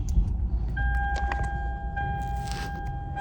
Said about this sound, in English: let me turn on my car